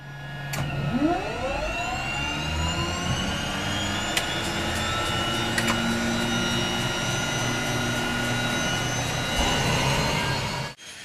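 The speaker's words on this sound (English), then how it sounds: "The first tests at the ground with the aircraft engine on revealed the first problem." A research aircraft's engine runs on the ground during testing in Indonesia, spooling up with rising whining tones into a loud, steady roar that holds for several seconds before cutting off abruptly.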